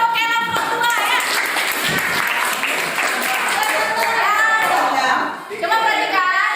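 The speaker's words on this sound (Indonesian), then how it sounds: "Kita beri aplaus untuk kelompok 2 ya." Classroom applause for group 2 during a school lesson, steady clapping from many students that fills the room for several seconds and dips briefly near the end, with voices talking over it.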